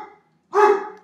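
A single loud dog bark sounds up close, following a brief faint tone and a moment of silence.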